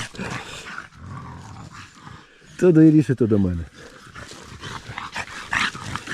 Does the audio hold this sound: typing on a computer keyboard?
no